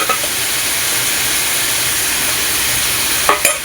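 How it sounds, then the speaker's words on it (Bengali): Green chili paste hits onion and garlic frying in oil for a fish curry, giving a steady loud sizzle with stirring throughout and a couple of sharp clatters near the end. "পেঁয়াজ রসুনটা হালকা নাড়াচাড়া করে এবার দিয়ে দেবো আমি লঙ্কা বাটা"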